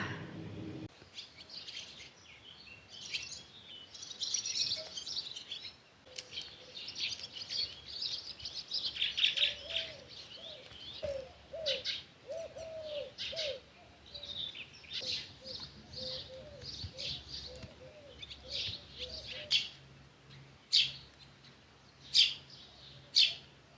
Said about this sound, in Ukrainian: І соловейка слухаємо.